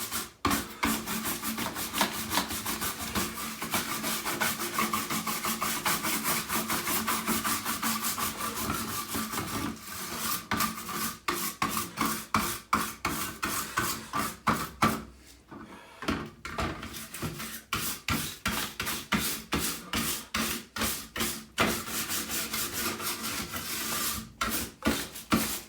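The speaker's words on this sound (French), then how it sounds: "on peut passer partout avec ce genre de brosse sur la carte mère" A brush scrubs the motherboard of a Schneider CPC 664 home computer with steady, rhythmic rubbing strokes, close and fairly loud, briefly pausing midway before resuming. No one speaks.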